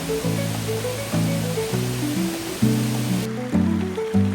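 A river flows through a forest with a steady broadband rush of moving water, partly covered by melodic background music throughout.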